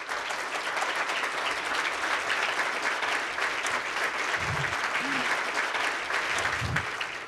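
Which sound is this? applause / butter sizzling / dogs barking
applause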